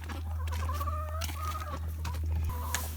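Several chickens cluck and squawk in short, overlapping calls close by, over a steady low hum from a farmyard setting, with no talking.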